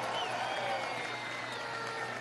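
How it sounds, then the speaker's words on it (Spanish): Crowd applause at a large political rally in San Felipe, Yaracuy, a dense, steady wash of clapping and crowd noise that stays loud and even throughout, with some voices mixed in. "un aplauso para el compañero."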